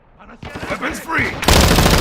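A voice shouts a command in a video game battle, then a sudden loud burst of gunfire erupts and continues dense and close through the end.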